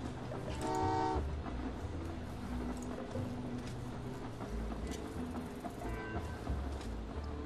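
A train horn toots in the Train Valley 2 video game, with a short tonal blast near the start and another around six seconds, over steady game background sound.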